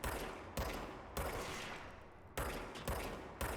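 Enemy gunmen fire on the player in the action video game Control, a dense fusillade of loud, rapid gunshots and bursts with several sharp new volleys cutting in over a continuous roar of battle.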